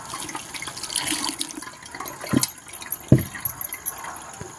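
Water poured over grated coconut splashes and trickles unevenly, with a couple of sharper sloshing pours standing out against the steady wet patter.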